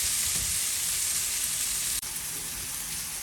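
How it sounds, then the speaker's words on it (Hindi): Karela pieces (bitter gourd) fry with tomatoes for karela gosht, making a loud, unbroken hiss of sizzling close by. A tiny dropout about two-thirds of the way through briefly interrupts it, and nobody speaks. "बस अब हम थोड़ी देर इसको इन टमाटरों में भूनेंगे"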